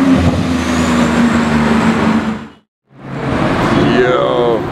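A Porsche GT2 sports car arrives at the Gumball 2022 rally, its engine loud and close as it revs, cuts out briefly, then roars again with voices audible over it.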